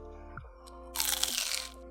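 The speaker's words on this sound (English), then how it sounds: "Listen to the crunch." Crisp crunch of biting into a fried Vietnamese imperial roll filled with meat and onions, a dense crackling burst lasting under a second, close and fairly quiet, with no talking.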